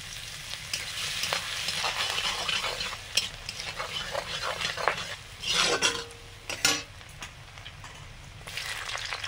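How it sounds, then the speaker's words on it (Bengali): Chopped garlic frying in hot oil for chilli paneer in a home kitchen, a continuous close sizzle broken by the scrape and clatter of a spatula stirring against the pan. "চিলি পনির, তেল দিয়ে রসুন কুচি দিলাম"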